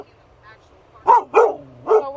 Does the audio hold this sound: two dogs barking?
yes